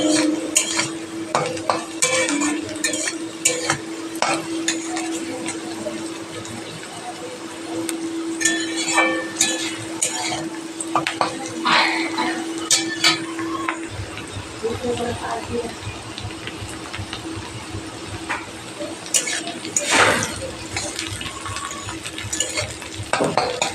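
Meat is stir-fried in a pan, with close metal-on-metal scraping and clinks of a spatula against the pan over a low steady hum. A person talks through much of it.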